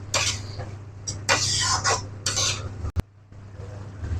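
Grated carrots stir and fry in ghee in a pan, giving scraping, rustling bursts of spoon movement with a steady low hum underneath and a sharp knock near the end.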